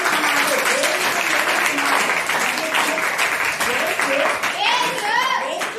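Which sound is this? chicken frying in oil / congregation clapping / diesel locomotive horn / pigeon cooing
congregation clapping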